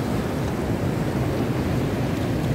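Ocean waves wash continuously at Sawarna Beach in Lebak, Banten, a steady broadband roar of surf over rocky coral shore, loud and close with wind buffeting the microphone, no voices.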